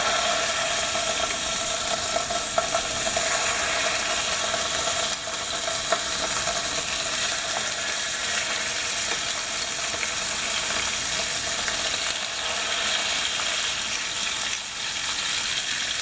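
Pork chops fry in coconut oil with a steady, dense sizzle that holds evenly for the whole stretch, punctuated by occasional faint clicks and small pops, with no voices.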